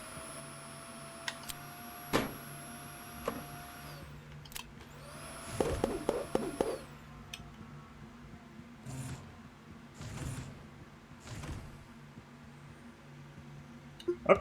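Vacuum tool in the video game Kill It With Fire 2, a low steady whir with a few louder mechanical bursts and clanks, running near and alone with no talk.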